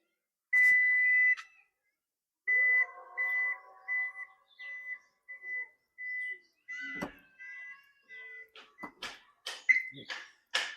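The powered boot of a Suzuki Victoris sounds a sustained electronic tone, then a series of short evenly spaced beeps, followed by mechanical clicks and a thud as the tailgate moves. The sounds are close and clear in a quiet setting with no talking.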